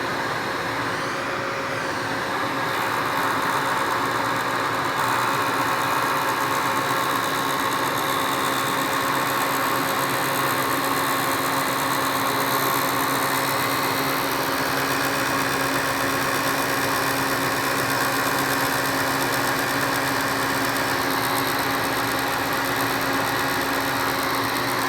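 A table saw runs continuously while its blade is slowly raised for cutting rabbets in wood, giving a loud, steady motor whine and hum that stays close and unbroken, with no talking.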